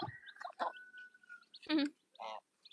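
Geese and ducks in a farm cage give short honks and nasal quacks at close range, several separate calls with quiet gaps between them.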